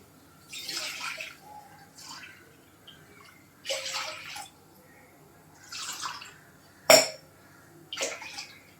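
Several separate bursts of pouring water, each lasting about a second, with pauses between and one sharp clink, as a small bowl is filled repeatedly to measure three bowlfuls of water.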